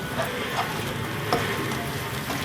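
Masala paste sizzles and fries in hot coconut oil for a spicy fish fry, a steady crackling hiss close by with occasional scraping stirs.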